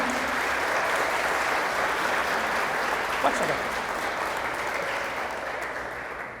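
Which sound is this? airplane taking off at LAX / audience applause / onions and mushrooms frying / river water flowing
audience applause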